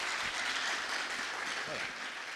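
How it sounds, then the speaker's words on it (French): An audience applauds a school quiz team from Lycée Alexandre Pétion at a televised quiz contest, producing a continuous, dense wash of clapping with voices faintly underneath. "sous l'éclat de vos applaudissements, s'il vous plaît"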